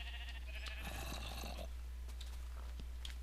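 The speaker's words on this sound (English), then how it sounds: "Oh, hello, Mr. Sheep." A sheep bleats in the Minecraft video game, a short wavering cry up close over a constant low hum, followed by faint clicks and quiet game sounds.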